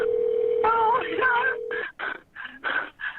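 Telephone dialing tones in a video game: a steady tone, then a run of short beeping keypad tones in a quick irregular sequence, loud and close.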